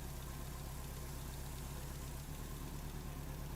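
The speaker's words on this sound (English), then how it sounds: "Must be a car, but it looks weird." A car engine idles steadily in the video game Season: A Letter to the Future, a low, even rumble held throughout with no talking.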